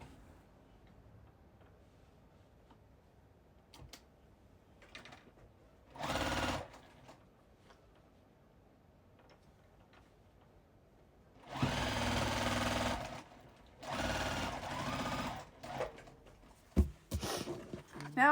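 A sewing machine runs straight lines of stitching on a quilted mug rug, quiet at first, then rising into a few close, steady whirring bursts separated by short pauses, with light clicks and ticks in between.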